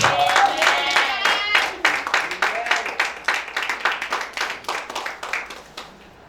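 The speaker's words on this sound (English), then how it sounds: "So we clap for that today" Audience clapping in a large crowd, a dense burst of applause that thins into scattered, rhythmic claps toward the end, with voices mixed in underneath.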